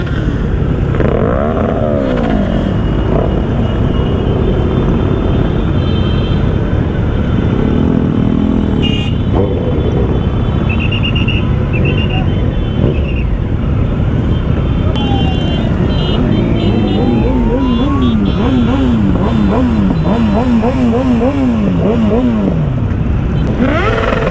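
An old scooter's small engine drones steadily and loudly throughout, rising and falling in pitch as it revs, amid busy traffic and street noise.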